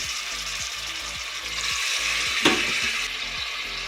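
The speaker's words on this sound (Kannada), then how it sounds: "ಎಣ್ಣೆ ಫುಲ್ಲಾಗಿ ಕಾದ್ಮೇಲೆ ಮಟನನ್ನು ಹಾಕ್ಕೊಳ್ಳೋಣ" Mutton pieces sizzle in hot oil inside a pressure cooker, a steady close frying hiss over a regular soft ticking, with a brief louder crackle near the middle.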